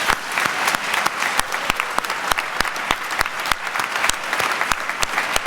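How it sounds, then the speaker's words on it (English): Applause from students and staff at an all-school assembly: a full, steady round of clapping from a large gathering, with sharp individual claps standing out throughout. "Could you give them one more round of applause?"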